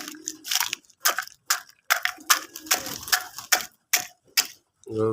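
Sharp crunching and cracking bursts repeat unevenly in quick succession, close by, as dried chicken and duck eggshells are crushed with a stick.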